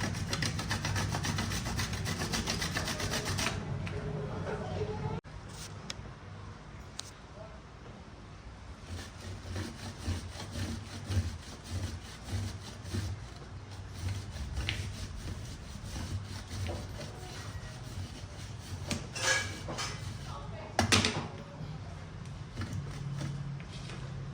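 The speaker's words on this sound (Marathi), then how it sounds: "आपण हे गुळ किसून घेणार आहोत" Jaggery being grated by hand makes repeated soft rasping strokes, close and fairly quiet, with an uneven rhythm over a low background hum and an occasional louder scrape.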